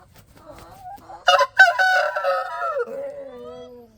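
Year-old chickens in a backyard coop cluck quietly before a rooster nearby lets out one loud, stretched crow that slides downward and fades into a softer cackle.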